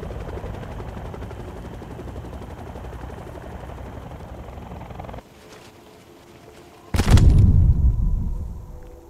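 Video game helicopter lifting off: a steady loud rotor and engine drone for about five seconds, a brief quieter lull, then a sudden loud roaring surge with heavy low rumble that fades slightly toward the end.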